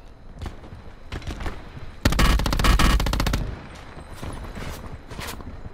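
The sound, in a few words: sentry gun firing in a video game (Call of Duty)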